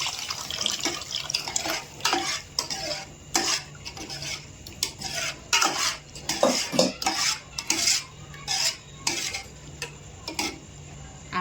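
A spoon stirs mashed dal with drumstick pieces in a metal pot for sambar, producing repeated close clinks and scrapes against the pot in an uneven rhythm, with a faint wet slosh underneath.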